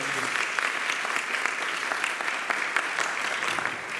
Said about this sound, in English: Big round of applause for the catering team.